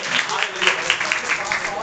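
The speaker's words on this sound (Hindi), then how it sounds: "जोरदार तालियां बजा दीजिए, मैं खुश हो रहा हूँ." Congregation applauding at a church meeting, a brisk round of many hands clapping with uneven bursts, moderately loud, while a voice speaks over part of it.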